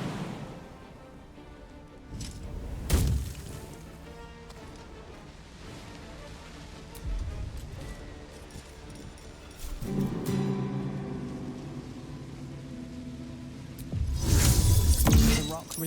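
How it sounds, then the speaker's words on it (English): Rock struck in Baldur's Gate 3, heard as a few sharp cracking impacts that fail to shatter it, separated by quieter game ambience and low tonal hums. "The rock resists all attempts to shatter it."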